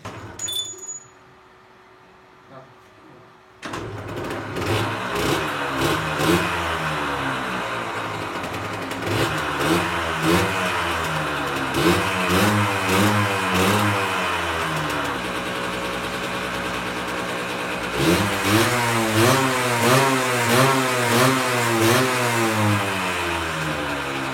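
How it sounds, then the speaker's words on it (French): A Derbi motorcycle under repair starts up after a few clicks and quiet moments, then runs loud and close through its exhaust, revving up and down repeatedly in rising and falling sweeps, with a brief dip before another burst of revving. "après avoir écouté le bruit du pot"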